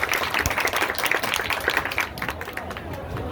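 A school audience of children at a Bihar Diwas science magic show claps together in a steady, dense patter of many hands, loud and close. Crowd chatter runs underneath the clapping throughout.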